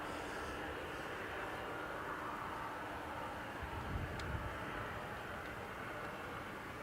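A steady, distant roar comes from an Aer Lingus airliner rolling for takeoff at Dublin Airport, bound for Bilbao, faint and even throughout with no voices.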